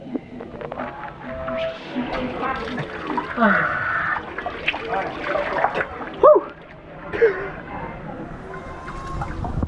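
Water splashes and sloshes nearby in a hot spring in Malaysian Borneo while people talk over it, with a few louder splashes standing out.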